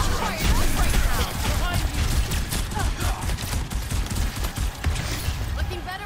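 Rapid, dense gunfire in an Overwatch 2 match, loud near bursts and volleys firing almost continuously with clanking mechanical impacts mixed in.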